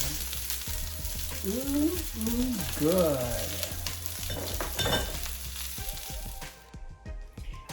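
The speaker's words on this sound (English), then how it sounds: "I'm going to mix them over in order to give flavor to the Brussels sprouts" Brussels sprouts in garlic and olive oil sizzle steadily in a pan while being stirred, with a voice speaking briefly over the close frying and scraping.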